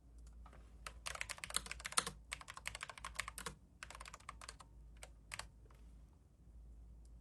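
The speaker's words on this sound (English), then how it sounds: "I'll go and just write it all out. Type it all out." Rapid typing on a computer keyboard, with bursts of clicking keystrokes broken by short pauses over a steady low hum, close and fairly quiet, no voices.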